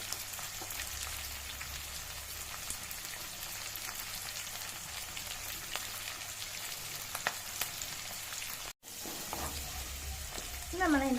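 Onion and capsicum fry over high flame in a hot pan with a quiet, constant crackling sizzle and occasional stirring clicks; it briefly cuts out, then resumes, and a faint voice enters at the end.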